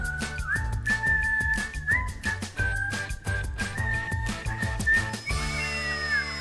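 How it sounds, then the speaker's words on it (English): Someone whistles a wavering melody over rhythmic music with a strong beat, the tune sliding up and down before a higher sustained note at the end. "Oh, he can hear it because he's whistling."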